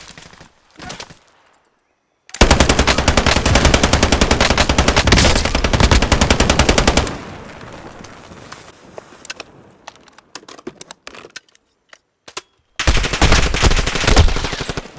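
Automatic gunfire in a shooter video game rattles out in loud, rapid sustained bursts, with scattered single shots and quieter gaps between the long volleys.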